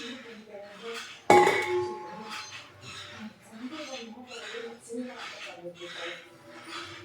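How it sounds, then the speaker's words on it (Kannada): A single sharp metallic clank of a pot being set down as cowpea dosa batter is moved into a bigger pot, followed by ongoing talking with faint kitchen clatter underneath. "ಸೊ ಹಾಗಾಗಿ ಸ್ವಲ್ಪ ದೊಡ್ಡ ಪಾತ್ರೆಗೆ ಹಾಕ್ತಾಯಿದ್ದೀನಿ."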